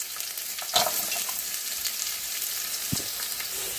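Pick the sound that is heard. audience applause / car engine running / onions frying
onions frying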